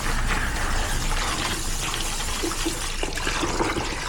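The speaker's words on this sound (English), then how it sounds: "you want to give it a final brush down while rinsing it with water." Water splashes and rushes steadily as a bike is rinsed during a final brush-down, a close, continuous spray with small drips toward the end.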